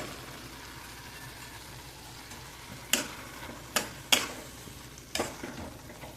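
Jackfruit seeds stirred into a simmering masala in a pan, a soft continuous sizzle with several sharp clinks of a spoon against the vessel, close and fairly quiet with no voices.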